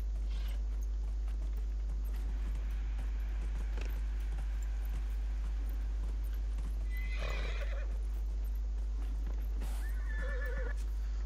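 Horse hooves clopping steadily in Dragon Age: Inquisition, with a whinny and some mechanical clinks mixed in over a constant low hum.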